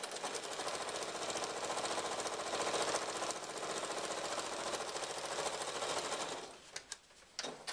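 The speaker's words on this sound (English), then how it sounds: "then I'm going to turn it around and I'm going to sew it on the other side" A sewing machine stitches a batik strap onto an iPad case in one fast, continuous mechanical run, close and steady, stopping near the end with a few handling clicks.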